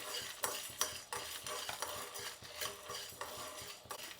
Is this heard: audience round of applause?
no